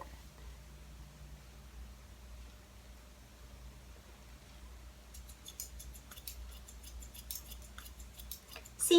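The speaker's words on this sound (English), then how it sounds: "And then I'm just going to cut the length up a bit." Scissors dry-cutting hair while trimming length for layers, heard as a quiet rustle at first, then a run of crisp snips growing closer and louder toward the end.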